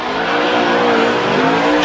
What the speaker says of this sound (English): Justin Pollock with great car control.